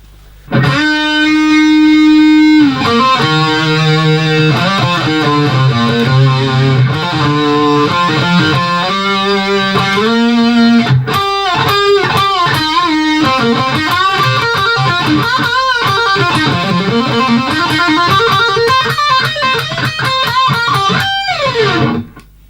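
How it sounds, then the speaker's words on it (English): Distorted electric guitar playing a fast melodic solo with sustained, bending notes, loud and unaccompanied for about twenty seconds. "And I'll add some distortion to just give it a bit of sustain."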